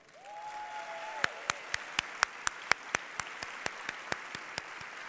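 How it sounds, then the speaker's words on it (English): Applause at a town hall event follows a brief sung or spoken tone, then gives way to slow, evenly spaced single claps, loud and distinct, roughly a dozen in a row. "please give an applause for Congresswoman Val Demings of Florida"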